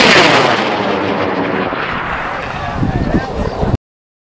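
A Mustang XL model rocket launching on an I-450 dark motor, heard as a loud, sustained roaring burst that rumbles and crackles for several seconds before cutting off abruptly, with voices in the background.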